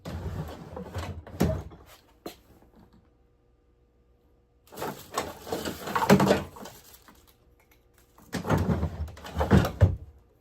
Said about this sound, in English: Might be in one of these drawers.